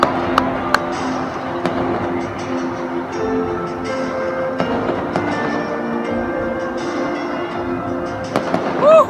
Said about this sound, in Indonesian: tembus juga petasan